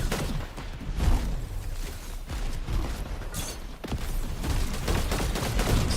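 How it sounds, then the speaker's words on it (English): Rapid gunfire from a Fortnite match, bursts of sharp shots with mechanical clatter and whooshes, loud and continuous over several seconds. "Epic Well still firing down on the Mez, Hearn, any team that flies by with the shockwaves"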